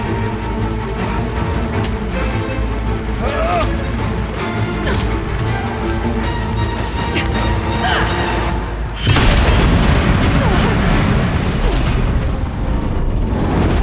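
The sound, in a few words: explosions from explosive ammo in the video game Horizon Zero Dawn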